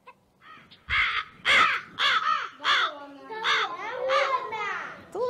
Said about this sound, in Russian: это ворона